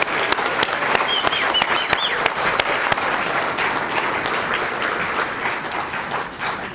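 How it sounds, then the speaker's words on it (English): An audience at an inaugural dinner applauds, a dense and steady patter of many hands clapping close by that fades slightly toward the end. "Please join me in applause for the staff here at Carr."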